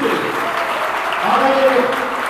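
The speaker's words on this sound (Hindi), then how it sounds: "एक बार जोरदार क्लैपिंग किया तो प्लीज से" Loud, dense clapping from a school audience at a TechKnowBee 3.0 quiz event, a continuous close wash of applause holding steady throughout with no talk over it.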